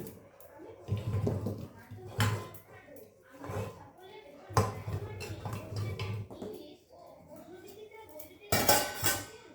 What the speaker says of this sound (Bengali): এইবার আমি এই সব ফলগুলো এই যে প্রেশার কুকার আছে আমার প্রেশার কুকারে দেবো